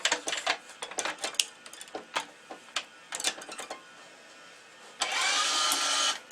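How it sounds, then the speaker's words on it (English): A racket stringing machine pulling tension on a cross string of a Prince O3 EXO3 racket, then a machine clamp closing, heard as a run of close mechanical clicks, ratchets and taps, ending in a steady whirring tension pull. "I'm going to pull tension on the 10th string, and I'm going to clamp it with my machine clamp"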